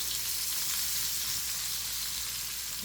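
Chopped onion frying in hot oil in a pan, a loud, dense, continuous sizzle and crackle held steady throughout, close and with nothing else heard.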